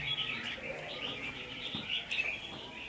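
Caged songbird caught in the wild in Hoà Bình singing nearby, a steady run of bright chirps and trills that fills the stretch without speech.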